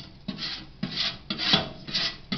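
A utensil scrapes leftover food from a toaster oven pan in steady back-and-forth strokes, about five rasping passes in a regular rhythm, close and moderately loud, with no talking.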